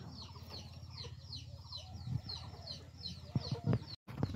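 Chickens clucking at a village farmstead with a rooster among them, a busy close chorus of clucks and squawks with brief bursts and a short cut near the end.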